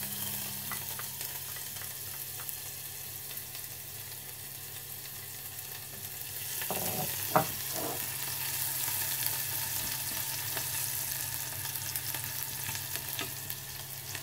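Shallots added to hot oil with noodles and meat, a continuous hiss of frying with a brief burst of louder sizzling and stirring midway, no talking.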